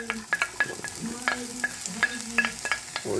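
Vegetables cooking in a couple of tablespoons of olive oil as a lobster and mushroom risotto base, a steady sizzle broken by repeated close scraping stirs and a few clinks, no talking.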